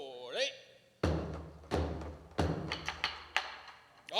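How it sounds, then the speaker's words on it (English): Greg and Al play a taiko drum rhythm at a taiko drumming class: about five heavy, booming strikes at uneven spacing, each ringing briefly, with a voice heard just before the first hit. "Greg and Al will demonstrate what that sounds like on the drum"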